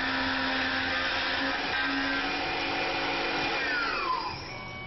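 A Tormach PCNC 1100 CNC mill cutting hard at nearly full horsepower, a steady loud whine of spindle and cutter with no chatter, holding level before easing slightly near the end.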